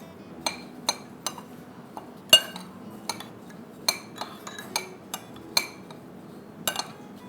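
Metal spoon clinking repeatedly against a bowl while mixing ingredients for buffalo chicken, a series of sharp, close, irregular taps and chinks with no talk.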